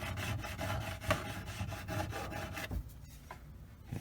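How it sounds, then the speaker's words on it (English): A card scrapes heavy grime off a C1 Chevrolet Corvette gas tank in quick, rhythmic rasping strokes, close and fairly quiet, stopping near the end. "I just got a card here. Okay, and then I'm just scraping. Okay, I'm scraping the heavy stuff."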